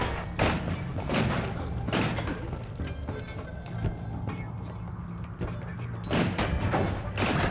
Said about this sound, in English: What was exploding there?